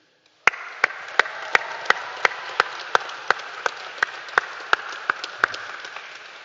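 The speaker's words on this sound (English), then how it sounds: "Students, this is your opportunity to show your appreciation with a massive cheer to say thank you to family" A graduation ceremony crowd breaks into sudden loud applause, with one close clapper giving sharp, evenly spaced claps over a steady wash of hands from the hall.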